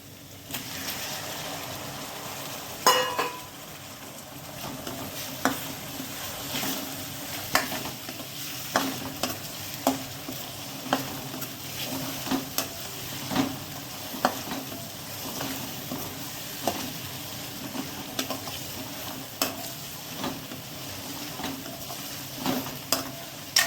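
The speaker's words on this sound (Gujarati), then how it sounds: "હવે આપણે આદુ લસણની પેસ્ટ છે એ સતરાઈ ગઈ છે। હવે આપણે તેમાં ટમેટા એડ કરી દઈએ।" Tomatoes fry with ginger-garlic paste in a pan for ragda patties, a continuous soft sizzle broken by frequent clicking scrapes of a spoon stirring, close and steady throughout.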